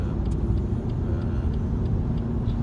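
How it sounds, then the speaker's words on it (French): BMW car cornering at high speed, heard as a steady interior road rumble and engine drone, loud and continuous, with faint rhythmic ticks above it and no talking. "Prise de virage à haute vitesse."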